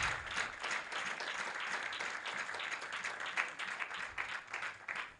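A congregation at a deliverance prayer service led by a prophet applauds with dense, continuous clapping. It sounds fairly distant and quiet and carries steadily for several seconds.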